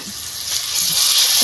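Garlic stir-frying in a pan for a Lao salad: a steady, close, broadband sizzling hiss that grows slightly louder and denser over a brief moment, with no talking.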